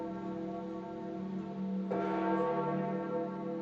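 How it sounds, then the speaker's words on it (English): Church bells at St. Peter's Basilica in Vatican City toll during the funeral procession for Pope Francis, one sustained ringing tone swelling with a fresh strike near the middle, distant and fairly quiet. "As bells tolled"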